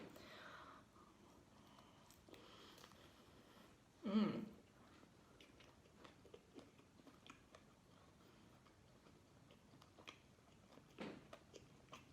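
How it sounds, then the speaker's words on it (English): A single crisp crunch comes from biting into a flour tortilla taco filled with shredded pork, close and brief, followed by soft chewing and small rustles in a quiet room. "there was a definite crunch when I bit into it"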